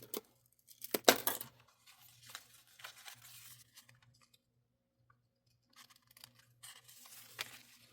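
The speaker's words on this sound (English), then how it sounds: "Now I'll trim off the edges here." Scissors trim the paper edges of small scrap-paper booklets, giving quiet, intermittent snips and rustles with a sharper cluster of cuts near the start and softer clips later.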